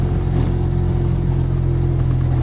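Mazda project car on first start, engine idling high with a steady droning hum and constant low rumble close by, exhaust burning off, no gaps or shifts in pitch.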